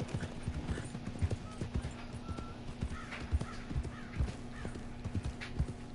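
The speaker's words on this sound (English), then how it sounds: "Trotting along." Horse hooves trotting, a steady rhythmic clip-clop close by, with faint creaks and a brief whinny-like sound in the background; no clear speech.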